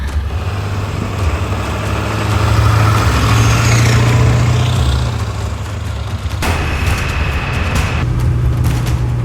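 A Ford F350 pickup's 7.3 Powerstroke diesel engine idles steadily with a deep low rumble, rising briefly louder midway, then settling back, close by and without voices.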